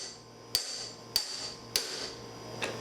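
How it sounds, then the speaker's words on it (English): Four sharp metallic hammer blows, spaced about half a second apart with the last one softer, strike an old-school manual impact screwdriver while working on a Kawasaki EX500 motorcycle, close up against a quiet background. "I have an old school impact screwdriver where when you hammer on it, it slowly but surely applies torque"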